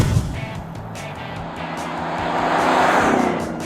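A 2011–2012 Jeep Grand Cherokee with the 5.7-liter Hemi V8 and a Flowmaster Force 2 dual catback exhaust (Super 50 mufflers, X-pipe) gives a steady, deep engine rumble that swells louder toward the end, with no talking.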